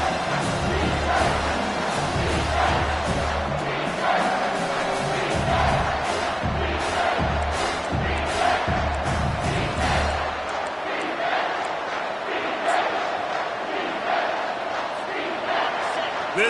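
Stadium crowd in a football video game, a steady loud roar of cheering and chanting that swells throughout, with a commentator talking over it.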